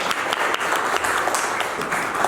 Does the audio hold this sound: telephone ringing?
no